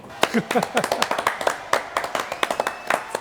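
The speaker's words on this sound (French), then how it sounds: "Applaudissements." Scattered, uneven hand claps from a small studio audience, sharp and close, with voices talking and calling out over them throughout.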